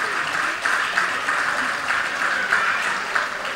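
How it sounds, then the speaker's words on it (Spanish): A crowd at a parranda celebration claps for honorees, sustained moderate applause with a few louder swells, steady from start to end. "Vamos a dar un aplauso a esta gente."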